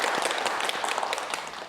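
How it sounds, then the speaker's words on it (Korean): Brief burst of studio audience applause on a Korean TV talk show as a guest, a police sergeant, is welcomed, dense steady clapping throughout with no talk. "박수!"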